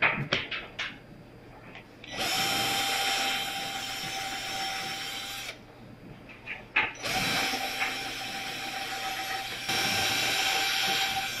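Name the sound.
power drill drilling hardware holes in 1940s wooden desk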